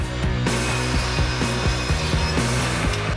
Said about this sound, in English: I'm going to cut an additional 1/4 inch off of this support bar here